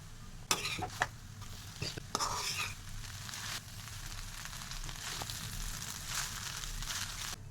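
Vegetable Hakka noodles with salt and black pepper being tossed and mixed in a hot pan: steady frying sizzle with sharp scraping and clattering strokes early on, then a continuous, fairly faint hiss.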